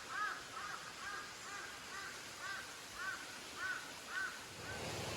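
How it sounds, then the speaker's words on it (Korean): A crow caws repeatedly over a forest campsite in Pocheon, with harsh calls spaced about a second apart. The calls sound faint and distant over quiet ambient noise. "갑자기 까마귀가 울어서 좀 공포영화 분위기네요"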